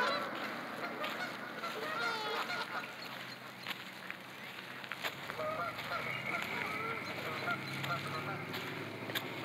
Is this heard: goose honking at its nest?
yes